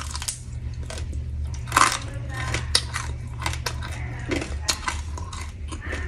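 Crunchy bites into cubed chicken fillet pieces fried extra crisp, KFC-style, giving a run of sharp crackling crunches and chewing sounds up close over a steady low hum.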